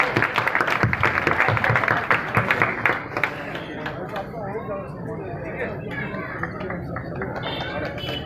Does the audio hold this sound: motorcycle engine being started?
no